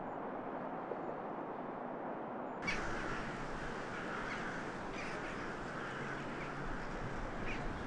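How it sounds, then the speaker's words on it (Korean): Distant flocks of crows caw intermittently at dusk over a low, constant rumble of ambient outdoor noise that grows slightly brighter partway through. "먼 하늘가에서부터 검은 무리의 까마귀가 나타나기 시작하는"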